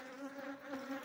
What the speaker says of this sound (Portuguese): Tem algumas abelhas aqui na natureza